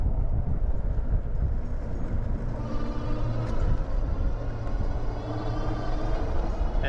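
Strong wind buffets the microphone during an e-bike ride on a Vitilan U7, a heavy continuous low roar with no voices.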